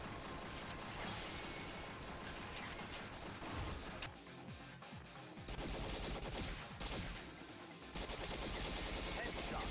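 An assault rifle fitted with an ACOG scope fires in a lesser-known indie shooter, quick bursts of gunshots mixed with mechanical clatter and impacts, dense and continuous over game noise.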